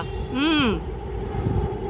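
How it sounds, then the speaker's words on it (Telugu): Several trains pass nearby, heard as a steady rail rumble and hum in the background while a person speaks briefly over it. "ఏంటమ్మా ఇన్ని రైళ్ళు వస్తున్నాయి?"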